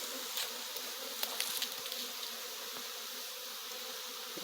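Dense, steady buzzing of European Italian honey bees swarming close by during honey harvesting, a continuous hum with a few individual bees passing nearer the ear.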